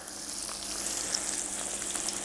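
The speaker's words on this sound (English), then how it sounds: "If you want that nice sizzle, you want to hear that noise." Salmon sizzles steadily in hot oil, a continuous crackling hiss with small pops, close and alone with no voices.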